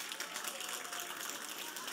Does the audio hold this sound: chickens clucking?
no